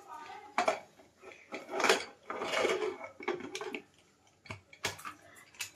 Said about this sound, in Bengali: এবার প্রেসার কুকারের ঢাকনাটা বন্ধ করে দেব